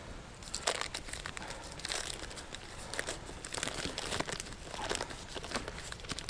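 Paper is crumpled by hand at an autumn woodland campsite, a dense, continuous crinkling and crackling close by. Sharper rustling bursts come and go, with no talk.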